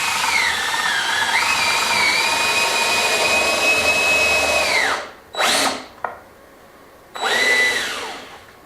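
A power drill bores pilot holes in wood during a renovation of an old courtyard, whining steadily and loudly for about five seconds, then two short bursts follow after brief pauses.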